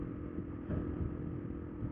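A motorcycle engine idles with a low, steady rumble and a brief slight rise midway, fairly close.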